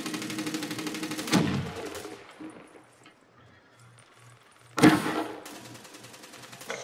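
Gunfire in the video game Black Ops 3, with two loud bursts of shots a few seconds apart over a continuous game soundscape, and quieter stretches between them.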